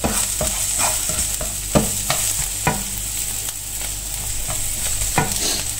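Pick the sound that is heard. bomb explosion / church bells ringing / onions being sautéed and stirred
onions being sautéed and stirred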